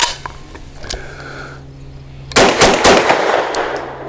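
Grand Power Stribog SP9A3G pistol firing Winchester Silvertip 115 grain defensive rounds, a quick string of sharp, loud, close reports after a quieter lead-in.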